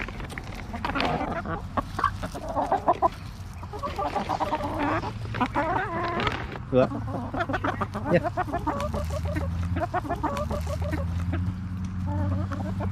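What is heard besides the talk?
backyard chickens clucking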